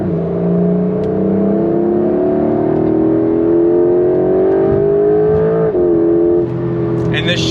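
A 2025 Porsche 911 Carrera GTS with a PDK gearbox pulls hard under acceleration, its engine note a steady, loud, rising drone heard from inside the car, with a brief dip around a gear change.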